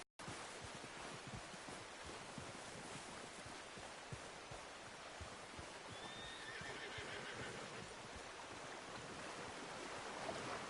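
A horse whinnies once in the middle, over steady broadband outdoor noise with scattered hoof clops; no one speaks.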